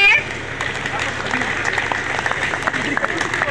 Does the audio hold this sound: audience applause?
yes